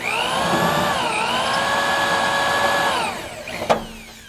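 Drill cutting out a spot weld on a 1958 Chevy Delray, a loud steady whining grind for about three seconds that winds down, followed by a single sharp metallic clink.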